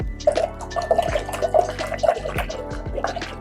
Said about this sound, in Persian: این بطری رو وقتی من کج میکنم در هنگامی که آب از اون در حال ریختن هست